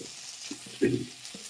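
Sajne drumsticks and potatoes fry in a pan: a soft sizzle runs under a few scraping stirs, one louder stroke standing out near the middle, with no talking.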